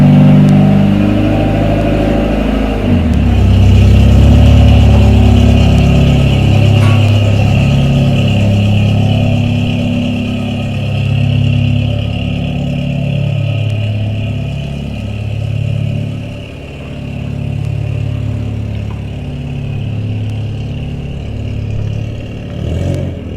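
A Honda Civic with newly installed coilovers drives off on a test drive, its engine revving and pulling away at close range, then settling into a lower, steady hum as it goes up the street through shifting gears.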